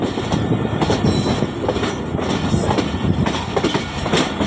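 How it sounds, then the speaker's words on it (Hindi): Jaffar Express train rolling through a curve onto the single main line, a steady loud rumble of wheels with rhythmic clickety-clack over the rail joints, close by and continuous. "साफ की तरफ बल खाती ट्रेन मेन लाइन 1 पे आते हुए।"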